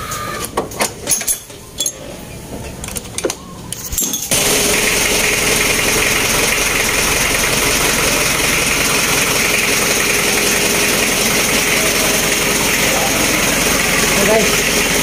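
A Mitsubishi 4D56 diesel engine in an Adventure, freshly fitted with a new timing belt, cranks after a few seconds of clatter and then settles into a steady, loud idle that runs unbroken to the end.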